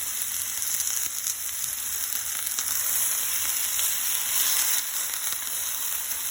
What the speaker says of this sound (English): You want the skillet hot so it sears them.